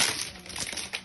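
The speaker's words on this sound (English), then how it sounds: "hear that rip" Packaging on an Alienware Cyberpunk gaming laptop box is torn and crinkled in one brief, close, continuous ripping rustle.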